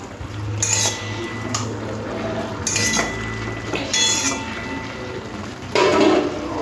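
A metal lid lifted off a pot of cooking gourd greens, several bright clinks and clatters of utensils and metal spaced across the stretch, close and fairly loud over a low steady hum.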